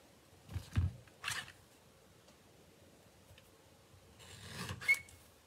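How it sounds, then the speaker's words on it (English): Cardstock edge being trimmed by hand, with quiet, close scraping and rasping cuts in two brief clusters separated by near silence. "I'm gonna trim just a hair off the edge."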